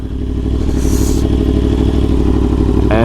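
A Yamaha R1 motorcycle with a KO exhaust roars loud and close on a Houston street, its engine droning hard and steady with a rising rev near the end.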